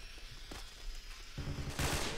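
An M4 assault rifle fires in a video game as distant, faint bursts of rapid shots, with a heavier volley near the end over a low game background.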